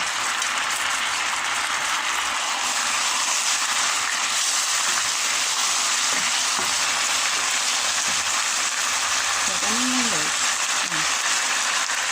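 Mustard greens with peanuts fry and get stirred in a pan, a steady, dense sizzle throughout with faint scraping and light clinks from the stirring.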